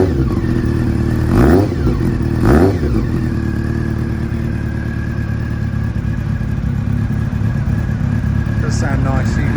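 A 1999 Honda CBR 600 F motorcycle idles with a deep burbling engine note, blipped twice early on with quick revs that rise and fall, then settles back to a steady idle, close and loud.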